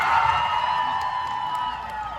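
An audience at a cosplay convention award ceremony cheers and whoops, with a loud, sustained crowd roar that fades slightly over a couple of seconds.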